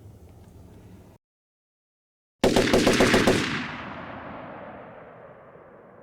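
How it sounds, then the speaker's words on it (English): A Maxim machine gun in a video game lets off a loud, rapid burst of fire after a brief silence, followed by a long echoing decay. No one speaks. "one of the Maxims is going to fire at that group there"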